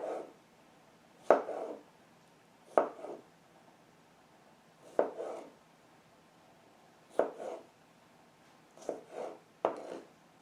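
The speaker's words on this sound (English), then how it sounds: "I'm now going to cut up these strawberries, and you can see how much better the bevel one side blade cuts" A single-bevel kitchen knife slices through strawberries on a cutting board, giving about seven crisp, separate chopping taps at uneven intervals in a quiet room.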